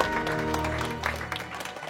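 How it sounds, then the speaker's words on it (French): Applause from a studio audience, a brief burst of clapping under a low musical hum or background tone, moderately loud and fairly steady across the moment. "sous les applaudissements du public"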